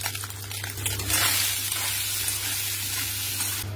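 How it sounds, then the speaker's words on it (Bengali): Lemon-marinated soya chunks fry in hot oil, a loud, constant sizzle and crackle close up over a low steady hum, swelling slightly partway through, with no one speaking. "তারপর সোয়াবিনটাকে তেলে ভাজবো"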